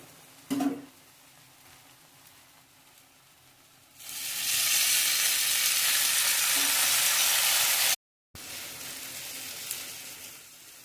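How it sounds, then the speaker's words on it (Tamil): Chopped tomatoes hit a pan of sautéed onions and green chillies, setting off a loud, steady sizzle after a quiet stretch; the frying hiss continues with one brief break. "வெங்காயம் கொஞ்சம் வதங்கி முடிஞ்சதுக்கப்புறமா இதில் தக்காளி சேர்த்துக்கலாம்."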